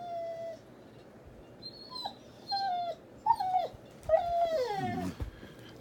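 A dog howls and whimpers in a rising, wavering series of cries, close and loud, with short yips toward the end and no talking.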